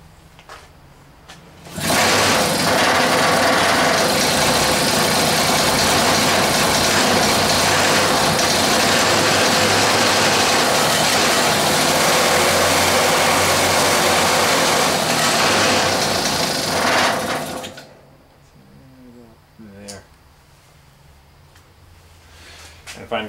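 A loud, steady bike engine runs for about fifteen seconds while its carburetor is tuned, then cuts out abruptly, leaving quieter shop noise.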